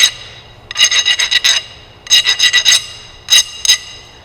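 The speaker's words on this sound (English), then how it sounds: "Sometimes I even take a file and grind it a little bit." A hand file rasping across a MIG welder contact tip in rapid back-and-forth strokes, grouped in three loud, close bursts with short pauses between them.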